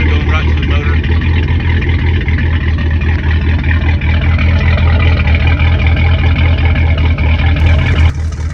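Mercruiser 350 inboard boat engine idles loud and steady on the muffs during winterizing, a continuous low drone that holds evenly before dropping off near the end, with speech over it.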